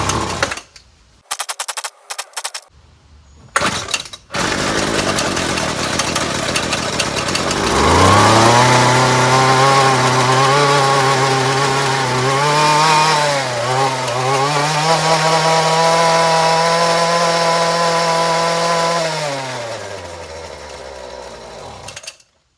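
A Weedeater FL26 two-stroke weed trimmer engine, started on choke, revs up and runs steadily at a loud, buzzing pitch for about twelve seconds, then winds down and cuts off. It follows several sharp pull-start tugs and brief sputters.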